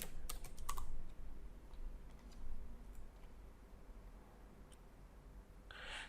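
A file name being typed on a computer keyboard while working in AutoCAD 2020: a quick burst of close, soft key clicks, then scattered quieter taps against a low background hum.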